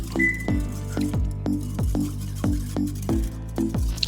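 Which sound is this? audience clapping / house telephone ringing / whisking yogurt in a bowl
whisking yogurt in a bowl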